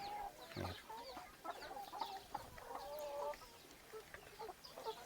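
Several chickens cluck and murmur close by while feeding, in short, irregular bursts, a soft busy chatter of the flock with no people talking.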